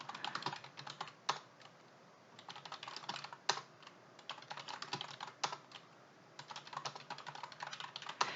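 Typing on a computer keyboard while entering data into an Excel spreadsheet, with quick bursts of key clicks broken by short pauses and a few sharper single taps, close and fairly quiet.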